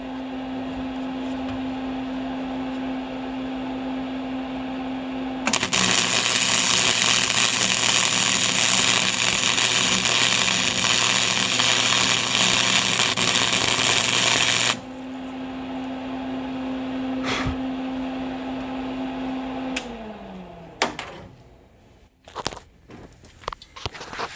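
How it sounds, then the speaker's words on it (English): A Lincoln Electric Handy MIG welder on a low setting welds a joint. A steady hum gives way to about nine seconds of loud, dense crackling hiss, then the hum resumes and fades, followed by scattered clicks and clanks. "I'm just going to weld this joint here and see how well it welds and see how well it holds."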